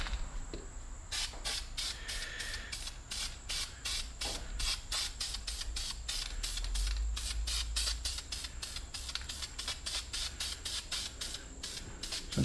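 A spray can mists paint onto wheels in a long string of short, even hissing bursts with brief pauses, close and fairly quiet, with no talking.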